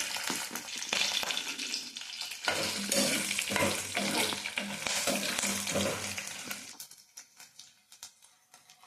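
Green and dried red chillies fry and sizzle in a pan of oil with garlic while being stirred, a steady close crackle with scraping stirs that thins out near the end; no one speaks.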